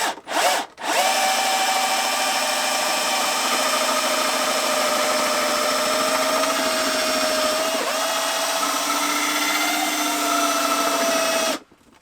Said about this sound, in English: now I can drill straight